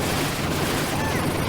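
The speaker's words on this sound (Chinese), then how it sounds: "咱们先捡一把像是加特林啊，演示一下效果。" A Gatling gun fires in the Double Dragon video game, a dense, continuous burst of rapid shots that stays loud and unbroken for the whole moment.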